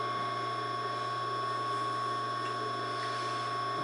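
An industrial sewing machine, an Adler 167 or Bernina 217-N set for zigzag stitching, runs steadily with a constant motor whine and rapid, even mechanical ticking, close and moderately quiet.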